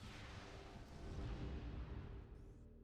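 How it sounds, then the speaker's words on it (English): Super missile fired in the Metroid Prime video game, a deep rumbling boom that swells and fades over a few seconds, heavy and loud with no speech over it. "Now what we have to do is take this out with the super missile."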